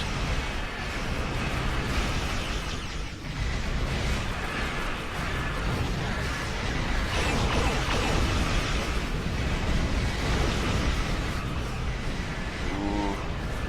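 A torpedo detonates close beside a ship in a naval space-combat video game, giving a loud, sustained rumbling roar of blast noise that fills the whole stretch without pauses.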